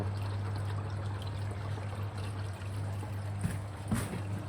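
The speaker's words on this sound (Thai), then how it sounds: "ชักออกมา เขย่าล้างได้นะครับ ปิดปั๊มก่อนนะครับ แล้วเขย่า" Aquarium filter sponge being shaken and rinsed in water, a continuous close sloshing and splashing over a steady pump hum, with a couple of sharper splashes near the end.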